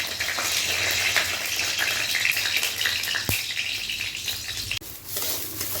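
Rice fries in hot oil in a pan for a vegetarian dish, a steady hissing sizzle with stirring scrapes and a couple of sharp utensil knocks, close and alone.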